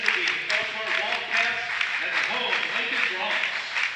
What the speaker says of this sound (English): We're picking up too much clapping noise in the background.